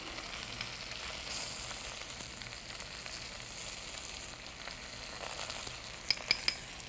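Garlic sizzles quietly in a pan, a steady soft hiss that runs throughout, ending with three quick light clinks of a utensil.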